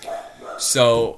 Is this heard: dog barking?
yes